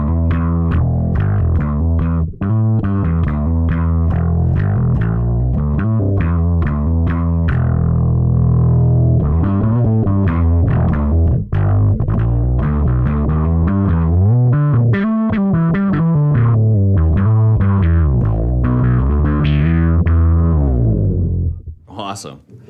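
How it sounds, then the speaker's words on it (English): Bass guitar played through a Fender Pour Over envelope filter pedal with distortion added, giving loud, buzzy, sweeping synth-like notes in a continuous riff that cuts off at the end. "let's try adding the distortion to that."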